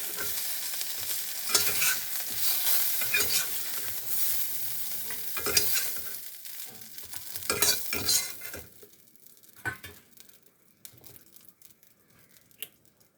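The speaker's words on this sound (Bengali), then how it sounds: "মাছ ভাজছি, মাছটা ভাজা হয়ে গেল।" Fish frying in hot oil in a home kitchen pan, a steady close sizzle with stirring scrapes and crinkly bursts, fading quieter toward the end with scattered pops.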